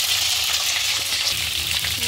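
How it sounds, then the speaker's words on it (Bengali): Potatoes and eggplant fry together in hot oil, giving a steady, close, dense sizzle that holds evenly throughout with no talk over it. "আলু বেগুনটা একসাথে ভেজে নিলাম"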